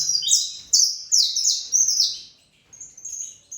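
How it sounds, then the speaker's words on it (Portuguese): A Brazilian saffron finch (canário-da-terra) sings loud, bright trilling phrases in quick bursts, close by, with short pauses between rolling runs of high chirps. "Canário muito bonito que a gente tem aqui. Cantador, de um canto aí de uma bitola bastante alta"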